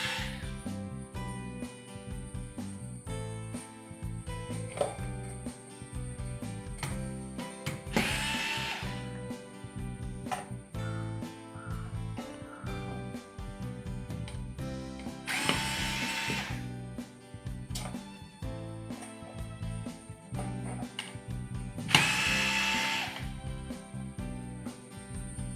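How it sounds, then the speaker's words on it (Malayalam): Screws being removed from the PCB of a dead water level controller built around an LM324 circuit, heard as three short whirring bursts spaced several seconds apart over steady background music. "അതിനിവിടെ മറ്റൊരു 4 സ്ക്രൂ കൂടി ഓപ്പൺ ചെയ്യണം."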